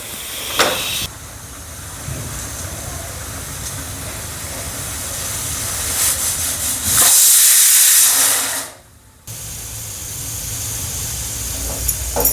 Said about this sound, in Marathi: आता कुकर झाकून घेते, 2 ते 3 शिट्ट्या होऊ द्यायच्या।